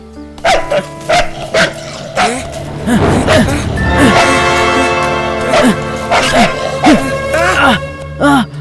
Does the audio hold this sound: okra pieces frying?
no